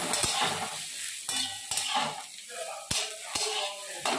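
Boiled potato, bori, radish and eggplant frying in a pan, a steady sizzle broken by several sharp stirring scrapes and knocks of the spatula.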